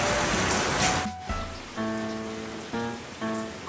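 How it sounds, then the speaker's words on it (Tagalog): Heavy rain pours steadily on a surface outside a kitchen where beef offal is being cooked in the Pangasinan style, a dense constant hiss that drops away after a second as tonal sounds take over. "Grabe, napakalakas ng ulan sa background."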